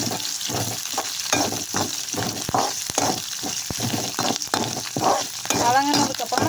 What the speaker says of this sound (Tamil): இப்போ வந்து நம்ம வெங்காயம் மிளகாய் கருவேப்பை போட்டு நல்லா வதக்கிக்கலாம்